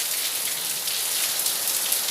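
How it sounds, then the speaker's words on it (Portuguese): Steady light rain falling after a heavy storm with hail, a soft continuous hiss of drops on wet surfaces, close and even throughout with no voices. "Olha que chuva bem suave."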